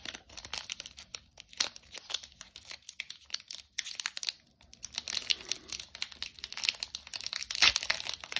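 A Pokémon card booster pack wrapper is crinkled and torn open up close, with quiet, irregular crackling and ripping bursts of plastic foil and brief pauses between them.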